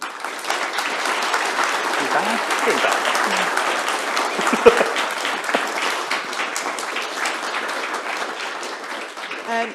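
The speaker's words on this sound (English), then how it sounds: "I think round of applause." An audience applauds after a lecture on the metaverse with sustained, even clapping for about ten seconds, and a few voices murmur underneath.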